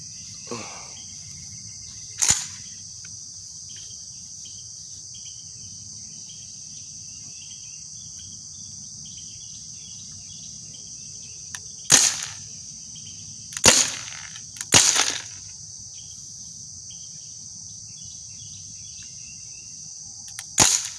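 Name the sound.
air gun shots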